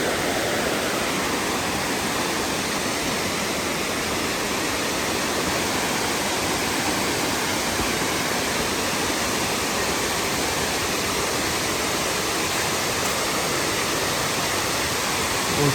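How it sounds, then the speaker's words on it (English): Cascades below Crabtree Falls on the Blue Ridge Parkway in North Carolina, a steady, dense roar of rushing water that stays loud and unbroken throughout, with no other sounds on top. "Cascades below the falls making a whole lot of noise."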